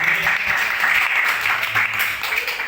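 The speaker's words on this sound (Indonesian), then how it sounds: "Tepuk tangan buat teman-teman" Participants at a leadership training presentation give a short round of applause, a brief, even spatter of many hands clapping at moderate volume.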